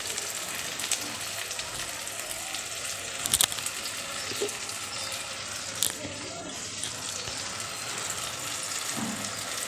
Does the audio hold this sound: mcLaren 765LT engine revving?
no